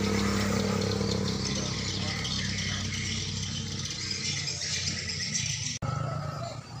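A modified oil palm hauling motorcycle on tractor tires runs on peat land, its engine rattling and droning loudly and steadily throughout, with voices talking over it.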